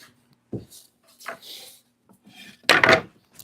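A piece of ash wood is picked up and handled on a table, giving a few separate knocks and scrapes, one louder clunk near the end, with quiet gaps between.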